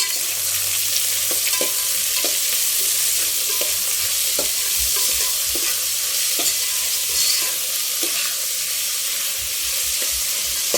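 Onions sautéing in a pan for palak paneer give a steady close sizzle and hiss, broken by regular scraping clicks from stirring, with no talking.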